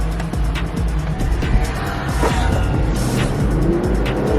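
A BMW X series SUV on a test drive gives a continuous rumble of engine and road noise inside the cabin, with faint tire and wind sounds and no clear talk.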